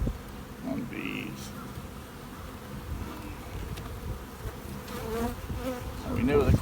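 Dense buzzing of honey bees swarming over a hive frame packed with brood, pollen and honey during installation of an overwintered nuc, a steady close hum with occasional louder passes near the end.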